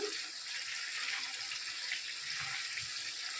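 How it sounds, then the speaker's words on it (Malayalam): Salt water is poured in while banana chips are made, giving a steady, faint splashing and trickling for a few seconds with no talk. "രണ്ട് ടീസ്പൂൺ ഉപ്പ് ഒഴിച്ച് കൊടുക്കാം ഉപ്പുവെള്ളം ഒഴിച്ച് കൊടുക്കാം"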